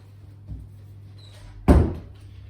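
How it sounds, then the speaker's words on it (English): A door bangs shut once, loud and close, after a soft earlier thud over a quiet low hum. "Close the door so they can continue whatever they're doing in their area."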